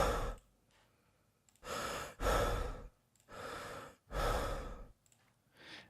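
A first-person game character's breathing sound effects play as a few long, loud breaths, each a drawn-out airy rush separated by short quiet gaps, with no talking.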